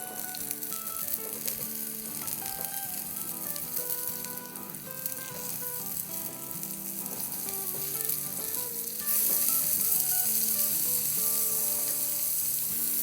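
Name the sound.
frying and flipping food for copycat McArabia recipe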